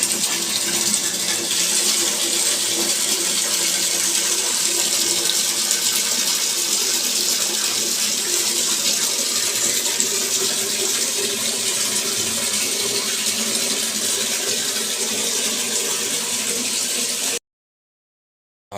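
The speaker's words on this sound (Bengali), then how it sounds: "তো আজকে ঠান্ডা জলে চান করব" Cold water runs in a steady, loud, unbroken gush for a bath, like a tap or poured stream filling a bucket, close by and continuing until it cuts off sharply near the end.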